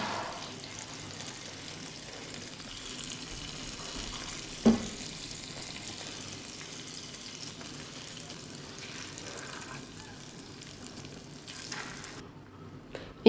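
Pieces of fish fry in a pan with a steady, moderate sizzle and soft bubbling. A single brief clink sounds partway through, and no one speaks.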